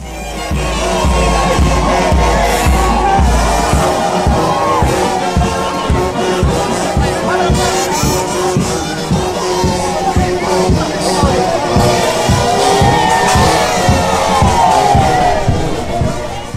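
A large, dense crowd of faithful roars, cheers and shouts in welcome for a visiting spiritual leader in Mbanza Kongo, sustained loud babble with rising whoops and cries throughout.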